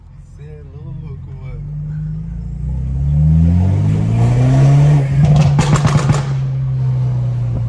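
A heavily modified car's engine revs up loudly and close by, rising in pitch, with a burst of sharp exhaust pops and crackles near the end, while people talk excitedly over it.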